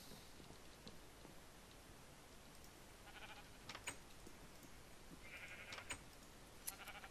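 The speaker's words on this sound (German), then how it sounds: "das Schaf wollte ausbrechen" A sheep in a Minecraft-style survival game, near a fence, gives a few faint bleats over a quiet, steady game ambience.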